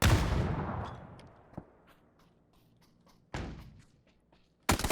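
A flashbang grenade going off in PUBG: a loud opening blast that decays, then a second burst midway and a third sharp bang at the end, with faint clicks and action noise between.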